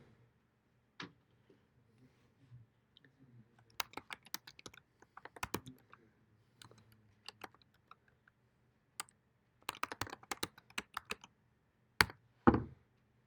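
Someone types on a computer keyboard in a quiet room, making sparse bursts of soft key clicks and taps with long pauses between them and a louder clack near the end.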